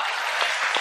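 Audience applause at a Hindi poetry recital during a Holi gathering, a steady dense patter of clapping from a crowd, alone and fairly loud throughout the short burst.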